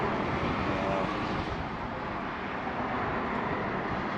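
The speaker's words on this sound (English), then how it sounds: "brisk wind blowing" A brisk wind blows steadily outdoors while camping on Utah's Paunsaugunt Plateau, a loud, continuous broadband rush with no pauses.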